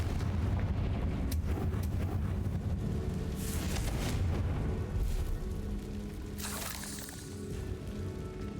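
A Confringo fire-blast spell explodes in Hogwarts Legacy, a broad rumbling boom with crackling bursts and a sharp hissing flare near the end, loud and close with no talking.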